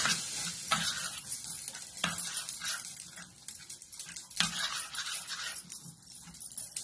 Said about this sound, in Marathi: आता हे मिश्रण चांगलं हलवून घ्यायचं.